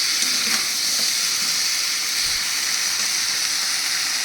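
Spice masala sizzling and frying in a pan for a potato and pointed gourd curry, a steady, dense hiss that holds loud and unbroken throughout with no voices.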